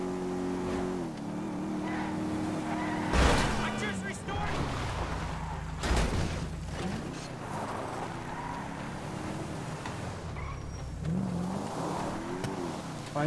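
A car engine in GTA V drones steadily, revving and shifting pitch with a couple of loud impacts, while someone talks over it.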